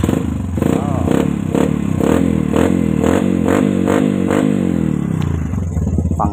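A Yamaha XTZ motorcycle engine starts and revs loudly close by, its steady pulsing idle rising and falling through repeated throttle blips before settling near the end.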